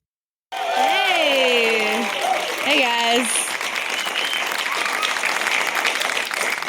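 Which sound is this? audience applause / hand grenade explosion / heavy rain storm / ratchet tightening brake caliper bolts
audience applause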